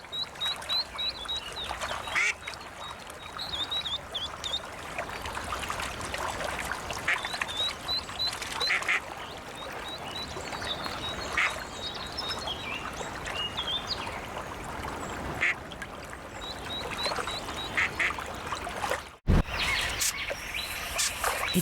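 Ducks and their ducklings call in a forest with undergrowth and reeds. Scattered high peeps and quacks come and go over a constant wash of outdoor ambience, with a brief knock near the end.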